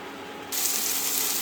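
A splash of water goes into a pan of mixed vegetables and paneer as they cook. After a quiet moment comes a sudden, loud burst of hissing sizzle that stays steady until the end.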